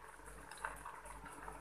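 Green gram simmering in a pot of water on a home kitchen stove, giving a faint, steady bubbling and gurgling with small pops.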